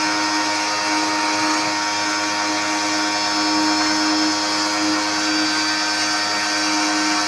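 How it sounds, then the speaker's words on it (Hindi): A vacuum pump runs on a Gree 1-ton inverter R410 air conditioner being repaired, giving a loud, steady whine and motor buzz throughout with no talking. "ये वैक्यूम पंप हमारा चल रहा है"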